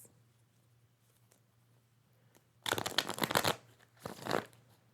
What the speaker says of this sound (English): And last shuffle